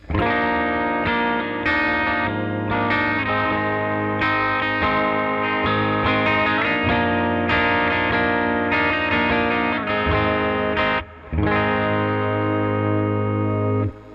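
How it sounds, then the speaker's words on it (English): An electric guitar plays through an amp with the fuzz pedal switched off, chords ringing continuously with a short break near the end. "This is what the amp sounds like"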